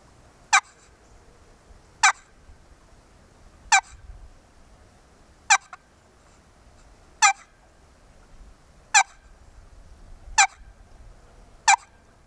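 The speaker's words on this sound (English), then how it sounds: "Clucking on a box call is done this way." Sharp single turkey clucks from a box call, evenly spaced about every second and a half, eight in all against quiet background.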